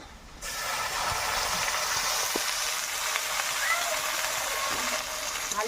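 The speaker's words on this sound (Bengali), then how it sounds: "কিছুটা মশলা আমি মিক্সিতে বেটে নিয়েছি আদা রসুন জিরে শুকনো লঙ্কা মশলাটা আমি দিয়ে দেবো" Ground paste of ginger, garlic, cumin and dry chili frying with onions in a pan, a steady, fairly faint sizzle and spatter that holds continuously after a quiet start.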